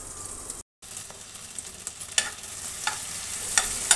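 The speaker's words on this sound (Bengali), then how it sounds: "সমস্ত মশলাগুলোকে একত্রিত করে টমেটোর সঙ্গে ভালো করে নেড়ে চেড়ে মিশিয়ে দেব।" Onion, garlic, ginger and cumin pastes fry with tomato in a pan, a steady close sizzle broken by brief silence early on, with sharper scraping stirs ticking in at intervals; no talking.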